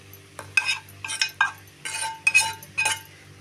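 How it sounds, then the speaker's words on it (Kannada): Egg rice with soy sauce is stir-fried in a pan, with a series of sharp scraping and clinking spatula strokes against metal over a faint sizzle, irregular and close. "ಸ್ವಲ್ಪ ಸೋಯಾ ಸಾಸು ಹಾಕ್ಬಿಟ್ಟು ನಾನು ಈ ಥರ ಫ್ರೈ ಮಾಡ್ತೀನಿ"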